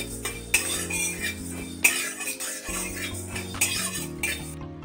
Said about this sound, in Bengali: এখানে আমি 1 টেবিল চামচ ধনে নিয়ে নিয়েছি। এটাকে আমি একটুখানি ড্রাই রোস্ট করে দেবো আগে।